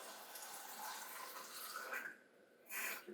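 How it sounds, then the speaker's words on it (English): Reverse osmosis water running from a tap into sample bottles, a soft continuous splashing flow that stops briefly and then resumes, quiet and close. "So go ahead and run that here now. Actually, we're going to do it with the reverse osmosis water."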